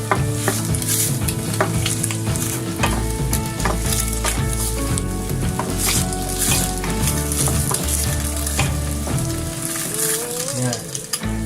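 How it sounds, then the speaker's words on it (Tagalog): Fried rice with chicken or shrimp being stirred in a hot pan, loud continuous sizzling and frying with scraping utensil strokes throughout, close up and with no talking. "Saka nyo ihalo yung protein nyo. Either chicken or shrimp."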